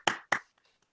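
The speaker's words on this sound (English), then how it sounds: "Let's give you guys a round of applause." Two sharp, close hand claps in quick succession, loud and isolated, followed by a few faint ticks, at a high school civics competition.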